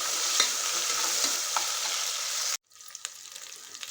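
Ginger, garlic and coriander paste frying with onions for vegetable pulao, a bright steady sizzle with stirring scrapes that cuts off abruptly, then quieter sizzling with scattered clicks, no voices.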